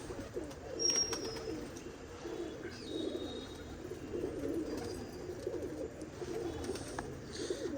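Pigeons at a pigeon-keeping club in Tarn Taran coo in a low, continuous murmur that fills the whole stretch, with a few faint high chirps over it.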